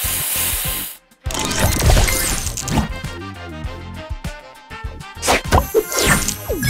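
Spray booster effect in the Match Masters puzzle game: a burst of whooshing, hissing spray noise mixed with sharp thwacks and smashing game sounds, busy and loud, with several quick impacts toward the end.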